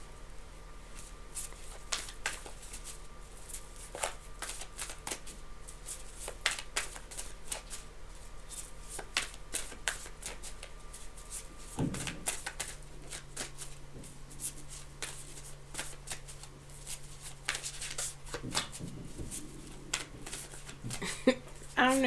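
Tarot cards shuffled by hand in a steady run of crisp riffles and slides, close and fairly soft, with a low steady hum behind and no talking.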